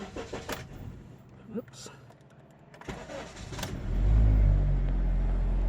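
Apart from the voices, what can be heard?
2010 Honda Civic engine starting and running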